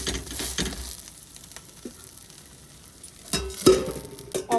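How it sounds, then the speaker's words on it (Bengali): Flatbread made from rice starch water frying under a lid in a pan, a soft steady sizzle throughout with brief louder crackles and a clink near the end, no talking. "দিয়ে অপর পিঠটাও আমি ঢাকা দিয়ে খুব ভালো করে সেঁকে নেবো"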